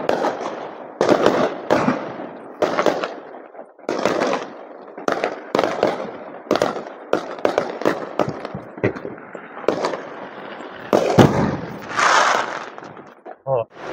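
Diwali sky shot rockets going off in a rapid, irregular string of sharp loud bangs and crackles, bursts overlapping one after another at close range with barely a pause.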